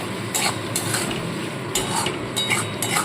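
Masala of salt, chili powder, turmeric and a little sugar stirred and sautéed in a pan, a spoon scraping and clinking against the metal in several distinct bursts over a soft background hiss.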